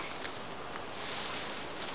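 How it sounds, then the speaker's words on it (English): A steady, dense hum of honeybees swarms around an opened hive during comb work, continuous and close throughout with no pauses. "These are just the most gentle, friendly bees."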